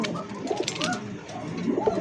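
Pigeons coo softly at a pigeon farm, with several overlapping low, rolling calls close by and no talking.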